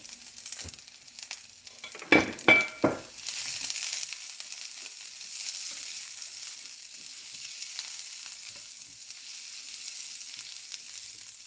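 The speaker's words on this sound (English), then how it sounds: "onions and a little bit of the garlic. Little pinch of garlic." Onions and a pinch of garlic frying in a pan for mushroom and chicken fried rice noodles: a steady, close sizzle with a few sharp stir-and-scrape bursts early on, then a continuous hiss with no talking.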